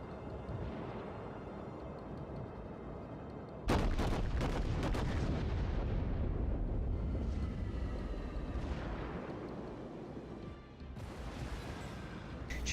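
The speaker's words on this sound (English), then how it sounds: "Incoming fire begins to cascade around the ship as she slows and takes aim at the enemy battleship." Heavy naval shellfire from the World of Warships game bursts around a Tier VI US battleship New Mexico, a sudden loud barrage of booming impacts and rumbling explosions that rolls on continuously with fresh blasts near the end.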